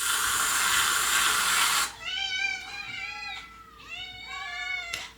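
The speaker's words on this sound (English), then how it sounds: "the cats are about to scream over this" Several cats meow and yowl loudly in repeated, drawn-out cries over a treat at home, following a burst of loud hissing steam-like noise at the start.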